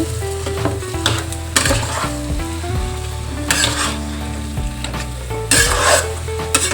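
Mashed potatoes mixed and fried in a pan for aloo paratha filling, loud close sizzling broken by brisk scraping and stirring strokes of a utensil against the pan.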